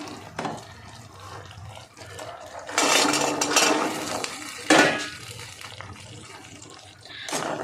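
Fried kathi gaja pieces go into a pan of hot sugar syrup, with clattering pieces, scraping utensil contact and a wet sizzling rush swelling midway, close and continuous with no talk.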